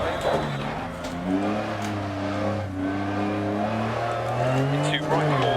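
A Lancia Stratos rally car in Dirt Rally on a Monaco stage, its engine droning steadily with rising and falling pitch as it revs through the gears, close and continuous throughout, with a voice talking over it.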